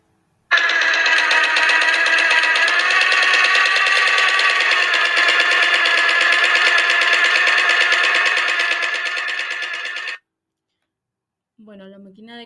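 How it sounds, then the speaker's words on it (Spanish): Household sewing machine running steadily, a dense, fast mechanical whir with rapid ticking, loud and close for about ten seconds before stopping abruptly, followed by a short burst of voice. "la máquina de coser más o menos suena así."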